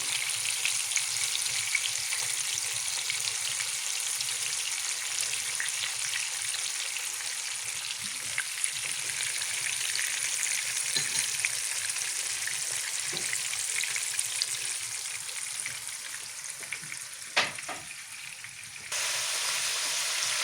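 Fish frying in a pan in a home kitchen, giving a steady, even hiss and sizzle of hot oil throughout, with a few faint clinks and stirring taps, and no voices.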